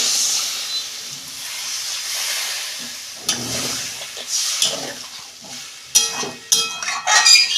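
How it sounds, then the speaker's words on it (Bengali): Water goes into a sizzling pan of kohlrabi and soybean curry, setting off a loud hiss and steam that fade and then flare again in bursts of spitting crackle near the end, with no talk. "এই যে আমি জল দিচ্ছি পরিমাণ মতো"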